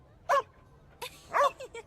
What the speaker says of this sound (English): Gosh, what a lovely dog.